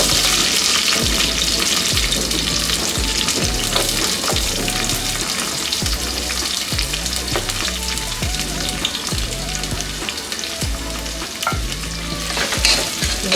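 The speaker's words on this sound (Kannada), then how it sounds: "ಈಗ ಫ್ರೈ ಮಾಡ್ಕೋಬೇಕು." Onion and curry leaves fry for capsicum fry, making a loud, close, continuous crackling sizzle with repeated scraping strokes from stirring that follow a steady rhythm throughout.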